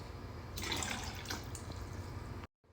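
Blue curacao is poured into a cocktail in a steady, close trickle lasting about two seconds, fairly soft, then cut off abruptly.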